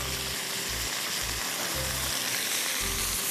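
Garlic and mustard sizzle in hot oil while frying for Spanish potatoes, a steady close crackle that runs unbroken under a low rhythmic thumping, with no voices.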